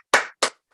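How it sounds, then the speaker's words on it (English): Two crisp hand claps in quick succession, close and distinct, with silence between and after. "I'm just clapping because"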